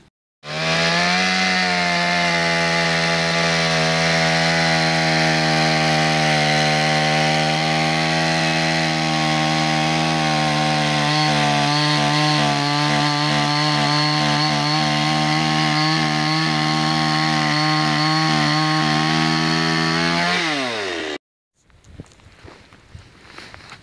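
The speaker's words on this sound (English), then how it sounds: "used his chainsaw, made a Swedish fire log" A chainsaw runs loud and close for about twenty seconds, cutting a Swedish fire log at a wild campsite, a steady high buzz with rhythmic bogging as it bites into wood, then cuts off abruptly.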